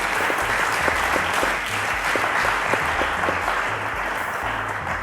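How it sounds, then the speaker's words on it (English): A studio audience at the Cowbellpedia quiz show claps for a contestant, a dense, loud burst of applause that carries on steadily for several seconds with no voices over it. "Congratulations, a round of applause to Stephen."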